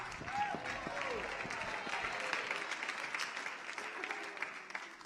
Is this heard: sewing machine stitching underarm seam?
no